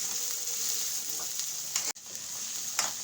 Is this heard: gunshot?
no